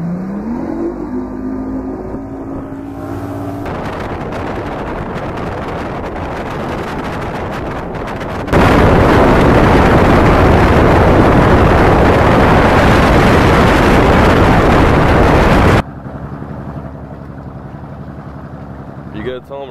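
Bass boat with a new jack plate, fully loaded with gas and passengers, accelerating at full throttle on the water: engine and hull noise building, then a loud sustained roar of wind and engine for several seconds before dropping off, with voices talking.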